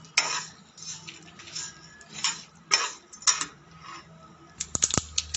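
Mustard seeds, dried red chillies and other tempering spices frying in a spoonful of oil in a pan, giving light crackles and pops with a few sharp stirring clinks near the end, fairly quiet and close, no talk.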